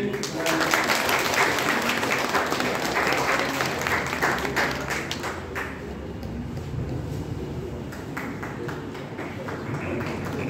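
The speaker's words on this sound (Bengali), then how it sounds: "সবাই একটু হাততালি দিয়ে" Audience applause at a one-day national seminar, a dense wash of clapping from a seated crowd that stays steady for several seconds then thins slightly, with voices murmuring underneath.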